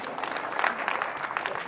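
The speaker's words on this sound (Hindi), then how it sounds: "एक बार बजाओ उसके लिए ताली" Audience clapping steadily for the sound technician at an outdoor Hindi poetry recital in Etawah, a sustained ripple of many hands close by.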